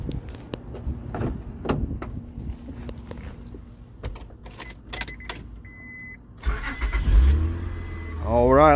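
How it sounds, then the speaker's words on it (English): A car cranks and starts after a dead battery and a blown fuse were replaced, preceded by a run of clicks and relay ticks. The engine catches near the end with a rising rumble and whine, close by. "Now let's try to start the car."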